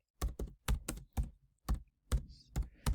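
Keys clatter on a computer keyboard in quick bursts of sharp clicks, close and fairly loud, with short pauses between groups and no talk.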